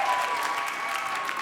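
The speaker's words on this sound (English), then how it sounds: "Big round of applause for Matthew." An audience at a live stage show breaks into applause, a dense, even wash of many hands clapping that carries on steadily at moderate loudness, with no voices over it.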